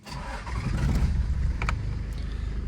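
A Toyota Land Cruiser 105 Series in Kenya starts up and pulls away, the engine catching and then running at a rising, steady rumble, close and moderately loud with a couple of faint clicks.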